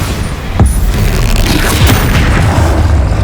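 Bombarda explosion spell blasts in the Hogwarts Legacy video game, loud booming thuds layered over continuous heavy rumbling combat noise, close and dense throughout.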